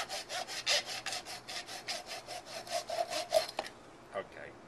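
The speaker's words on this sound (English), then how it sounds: "we're going to take a saw and just finish it off" Hand saw cutting through wood to trim off the base of a segmented wooden bowl, a rhythmic series of about a dozen quick rasping strokes, fairly close, ending with a couple of faint scrapes.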